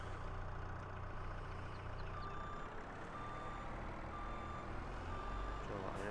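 A vehicle reversing in Farming Simulator 22 gives a steady train of reversal beeps over a constant engine drone, with the beeps loud and regular across the whole stretch.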